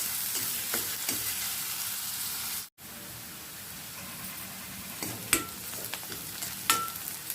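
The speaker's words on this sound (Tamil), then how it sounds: "சேர்த்து நல்லா வதக்கி விட்டுடலாம்." Onions and curry leaves sautéing in a pan, a steady even sizzle with a few sharp scrapes of a spoon, close by, briefly cutting out near the start before resuming.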